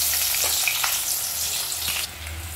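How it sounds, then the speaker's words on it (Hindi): Chopped onions hit hot oil in a pan for a home-cooked chicken biryani, giving a loud, continuous sizzle and crackle with a few light stirring clinks and no talk. "तेल गर्म हो गया प्याज डाल देते हैं"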